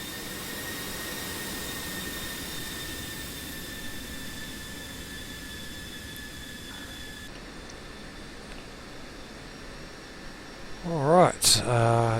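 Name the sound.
F-16C jet engine taxiing in a flight simulator game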